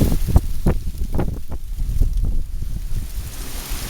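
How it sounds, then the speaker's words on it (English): Wind buffets outdoors beside an old railroad tunnel, with loud low gusts rumbling and thumping against the microphone in uneven surges, steady and close, no talking. "The wind's picked up"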